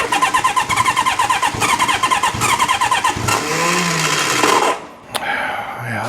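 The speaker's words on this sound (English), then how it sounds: "These Hondas usually just start right up." 1972 Honda CB750 Four motorcycle engine cranking in a fast rhythmic chatter, then catching and running briefly before cutting off, with a short sharp click near the end.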